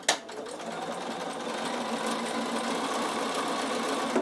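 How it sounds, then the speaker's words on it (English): A Bernina sewing machine runs steadily, stitching a slightly wider stitch with fine silky embroidery thread over wool appliqué on tear-away stabilizer; a close, even mechanical whir holds throughout with no talking. "I'm going to stitch over that again"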